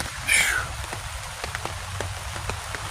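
Heavy rain patters down on a campsite with scattered drop impacts, a constant wet hiss close by, briefly topped by a bright chirping sound at the start.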